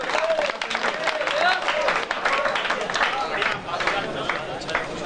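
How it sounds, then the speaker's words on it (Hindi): Audience at a Hindi poetry recital giving loud, sustained applause as a poet is welcomed, dense crowd clapping with some murmuring voices underneath. "तालियों के बीच"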